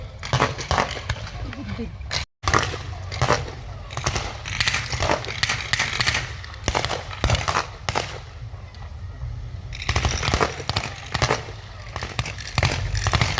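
WW2 armoured vehicles and infantry trade fire at a Tankfest battle reenactment: scattered rifle and blank shots crack at varying distances in clustered bursts over engine rumble, with a commentator talking throughout.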